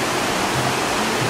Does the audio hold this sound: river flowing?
yes